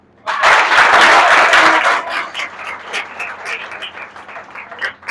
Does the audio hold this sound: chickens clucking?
no